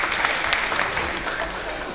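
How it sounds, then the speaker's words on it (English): Audience applause for Mengo SS at a school debate award ceremony, a steady, dense patter of many hands clapping throughout without a break. "Okay, another round of applause for Mengo SS."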